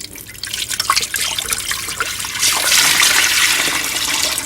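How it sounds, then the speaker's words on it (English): Fresh water is poured from a bucket into a small glass tank, a splashing, gurgling rush that swells louder halfway through and keeps flowing to the end. "we start in here, little tank, and we start with a layer of fresh water."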